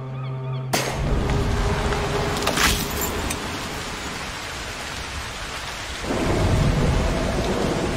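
Thunderstorm in the video game Broken Pieces: a sharp, close crack of thunder opens into steady heavy rain, with a second rolling rumble swelling near the end.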